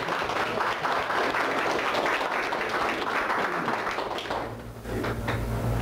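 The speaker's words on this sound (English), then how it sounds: "Give him a big round of applause." An audience at a training seminar applauds a participant, a steady wash of clapping across the room that dips briefly near the end, with a low hum underneath.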